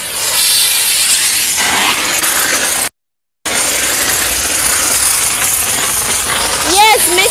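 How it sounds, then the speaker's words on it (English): A GOCLEAN steam cleaner blasts wet steam over a dirty van, giving a loud, steady, close hiss that cuts out briefly midway, then resumes with faint tonal chirps near the end. "we will clean the whole car with the wet steam."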